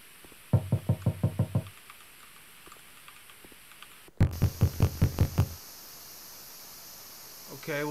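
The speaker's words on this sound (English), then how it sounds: "like you keep knocking." Two bursts of rapid, evenly spaced knocks ring out in a horror video game, the second set louder and sharper than the first, with quiet stretches of background hiss around them.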